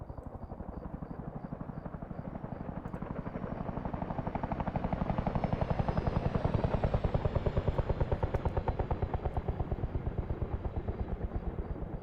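A helicopter passing overhead, its rotor thudding in a fast, steady pulse that swells louder near the middle and then eases slightly as it moves on.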